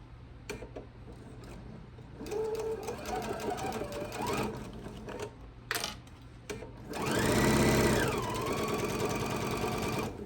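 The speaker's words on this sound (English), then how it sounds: "So now we're going to sew this a scant 1/4 of an inch all the way across there to join our top and our middle." A sewing machine runs a quarter-inch quilt seam, its rapid needle chatter in several short bursts with pauses, then a louder continuous run at the end; quiet handling sounds fill the gaps.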